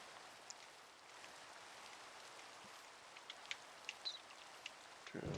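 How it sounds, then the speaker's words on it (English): Rain falls in the Minecraft video game as a steady, soft hiss with scattered droplet ticks and patters, continuous and even throughout. "Oh, it's raining."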